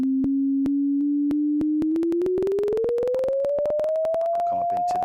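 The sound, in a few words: sine wave frequency sweep rising from 20 hertz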